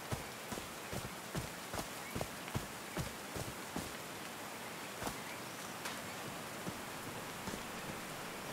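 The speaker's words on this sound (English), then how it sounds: "These drops of rain are so refreshing." Steady rain pours in the Call of the Sea video game, a dense constant hiss with scattered sharper drops tapping at irregular intervals, evenly spread throughout.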